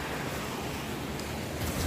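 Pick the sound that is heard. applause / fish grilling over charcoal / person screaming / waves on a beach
waves on a beach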